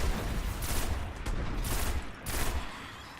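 Rapid, loud gunfire from the Parthian Shot weapon in Destiny's Rise of Iron, bursts of shots in quick succession with brief gaps, continuous over a dense game soundscape.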